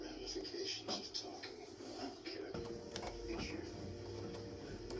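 An embroidery machine stitching small flower buds on a fall wreath design, a quiet, rapid mechanical ticking and chattering with rhythmic clicks and whirs, and a voice speaking over it at times.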